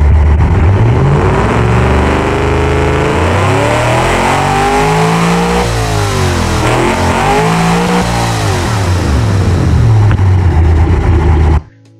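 A carbureted car engine in the Automation game revs continuously, loud and close, its pitch climbing and falling in repeated sweeps before cutting off abruptly at the end.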